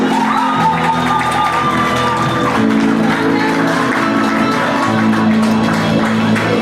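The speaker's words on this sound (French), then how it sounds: "Je vous demande encore de l'applaudir, de faire plus clair" Audience at a celebration applauding and cheering loudly and continuously, dense clapping mixed with whoops and shouts, with sustained musical tones underneath.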